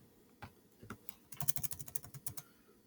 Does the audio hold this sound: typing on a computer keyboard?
yes